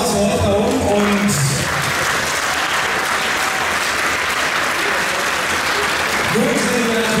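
Sustained audience applause for male fitness competitors on stage at a fitness championship, a dense, loud wash of clapping with a voice over a loudspeaker talking at the start and again near the end.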